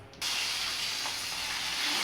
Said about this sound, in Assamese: আৰু তেলখিনি গৰম হৈছে, ইয়াতে নৰসিংহ পাত দি দিছোঁ